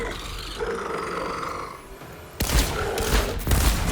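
Pistol fire in Borderlands 4, a high-damage weapon: a few sharp, loud shots burst in after a quieter stretch of game ambience, landing close and punchy near the end.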